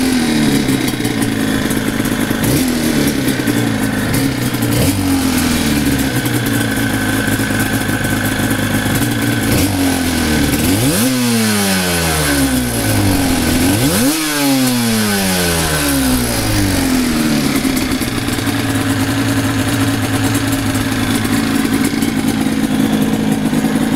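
A Yamaha TDR 250 two-stroke motorcycle engine with YPVS and a six-speed gearbox, running steadily and close by. It revs up and down repeatedly, with two strong rising sweeps around 11 and 14 seconds.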